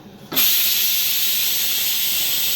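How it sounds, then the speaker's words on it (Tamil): Chickpea sundal boiling in a pressure cooker or pot, a loud steady hiss of escaping steam that starts abruptly and carries on unbroken, close to the listener with no talk. "சுண்டல் வெந்துக்கிட்டு"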